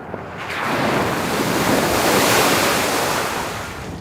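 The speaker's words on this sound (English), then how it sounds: "quite a bit windier up here than I anticipated" Strong wind gusts batter the microphone on an exposed hilltop, a steady loud broadband roar that swells and holds for several seconds with no talking.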